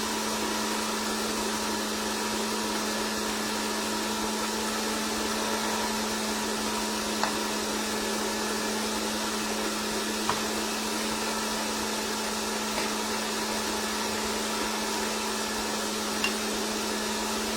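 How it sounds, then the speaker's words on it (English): An electric mixer whisks sponge cake batter for a Russian sandwich cake, giving a steady, even motor whir with no breaks. The sound is moderately loud and close, with no voices. "that's whisking up nice and fluffy now"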